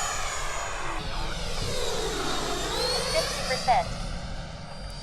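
Freewing F-22A Raptor 90mm EDF radio-controlled jet flying at an RC field, a steady loud ducted-fan whine sweeping in pitch as it passes by, with a voice speaking briefly over it.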